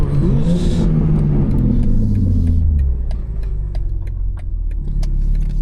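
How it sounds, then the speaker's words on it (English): BMW M4 Competition pulling hard with a loud exhaust, a deep rumbling roar that rises and then eases off, with whirring turbo and sharp crackles and pops from the exhaust, close and loud. "Hear that turbo?"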